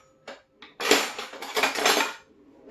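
A spoon mixes homemade vegan shampoo with tea tree and lavender oils in a container, giving a couple of light taps and then a short burst of clinking, scraping stirring up close.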